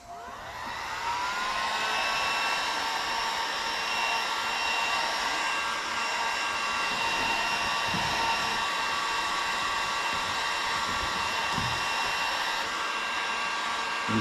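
A heat gun warms a 1976 Harley Shovelhead saddlebag emblem, blowing a loud, steady whirring roar with a whine that holds unchanged for the whole stretch, close to the listener.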